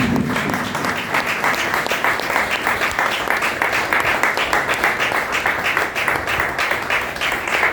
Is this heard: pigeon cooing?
no